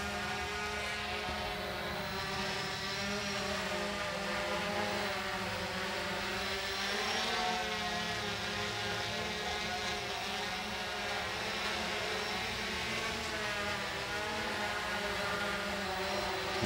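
A Typhoon H drone hovers and descends with its landing gear up, giving a continuous, loud, steady propeller whine with a dense buzzing drone and no talking.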